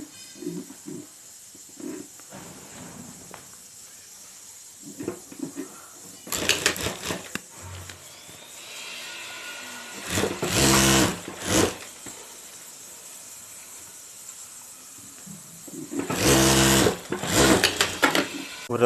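A sewing machine stitches a zip onto a handbag in three short, loud bursts spread out over quieter handling sounds, with occasional talk between the runs.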